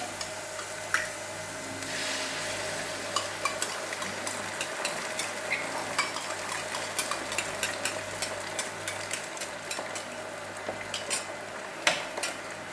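Two eggs fry in a pan while preparing homemade string hopper kottu. A steady sizzle runs throughout, with scattered utensil clicks and clatter over a low background hum.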